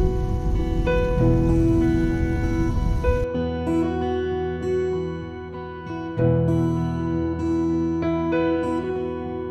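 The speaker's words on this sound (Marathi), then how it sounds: "जोरदार पाऊस पण आहे" Heavy monsoon rain pours down in a steady, dense hiss on a hill road with low clouds, with some tonal ringing layered over the downpour.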